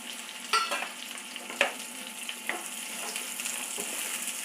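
Radish sautéing in a pan, a steady soft sizzle with a few sharp stirring scrapes and clicks, fairly quiet and close, no voices.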